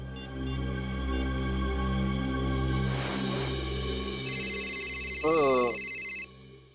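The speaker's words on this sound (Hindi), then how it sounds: "अब इस वक्त किसका फोन आ गया?" A telephone rings in a dramatic indoor scene, heard as a steady repeating electronic ringing tone held over music and room tone, with a brief burst of a voice near the end.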